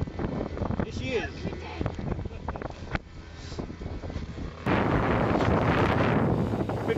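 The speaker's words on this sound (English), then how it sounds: "Bit windy, isn't it, Leash?" Wind gusts rumble loudly across the microphone at Eildon, growing into a steady roar near the end, with a voice speaking under it early on.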